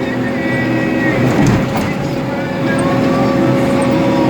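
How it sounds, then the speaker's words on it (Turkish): A tractor hauling three trailers rumbles loudly and continuously along a bumpy, jolting road, with rattling mixed into the engine drone. "Traktör bayağı sarsıntılı arkadaşlar"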